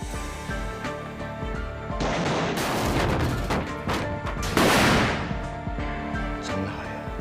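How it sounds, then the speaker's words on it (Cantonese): A recording of a crash into a metal barrel that covers a gunshot, heard as loud clattering metallic impacts and a sharp burst midway over a noisy, dense background, with no clear speech. "真係個撞鐵桶嗰個聲遮咗一下槍聲啦"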